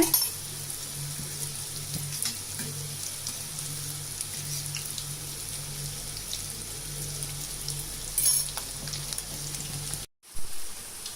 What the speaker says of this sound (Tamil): நீங்கள் மீடியம் ஃப்ளேமில் வச்சு நல்லா ஃப்ரை பண்ணிக்கோங்க